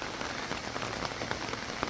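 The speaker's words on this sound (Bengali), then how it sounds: "বৃষ্টি কতক্ষণ থাকে" Steady rain falls on surfaces outdoors, making a soft, even patter of countless drops with no pauses or voices.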